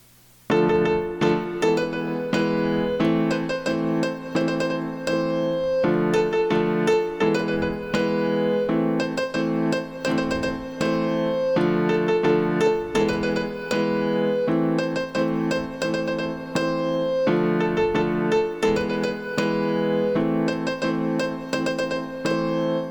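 Piano chords play a steady, repeating chorus pattern, full and sustained with a regular rhythm throughout, no voices.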